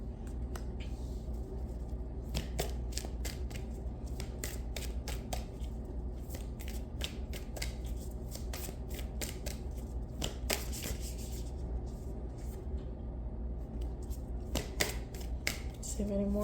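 Tarot cards shuffled by hand, a fast, continuous patter of crisp riffling flicks and taps that keeps going for a long stretch, close and quiet.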